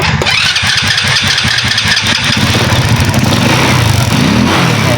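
A motorcycle that had been backfiring and failing to start cranks with rapid chugging bursts, then catches and settles into a loud, steady idle close by, with no talking.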